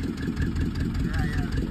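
A small fishing boat's engine runs at a low, steady throb as the boat pulls away on a crab-fishing trip, loud and close, with voices talking over it.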